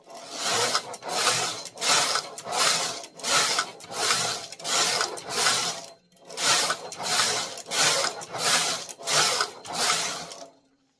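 Knitmaster 700 knitting machine carriage sliding back and forth across the needle bed, about a dozen loud, even, rasping passes in a steady rhythm with a brief pause midway.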